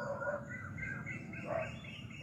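A bird calls with a few short, faint chirping notes against a quiet indoor background.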